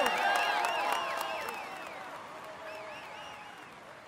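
A video game crowd at a Tour de France cycling stage applauds steadily with scattered whistles and cheers, the clapping loud at first and gradually easing.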